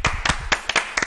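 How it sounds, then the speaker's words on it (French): Applause from a studio audience on a Gabonese Sunday television broadcast: a few loud, distinct bursts of clapping, fairly close, with no speech over them. "Il faut encore applaudir pour ces jeunes enfants."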